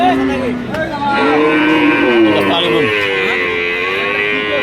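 A Friesian dairy cow moos loudly and repeatedly at a busy rural cattle market, its long lowing calls close by over steady crowd murmur.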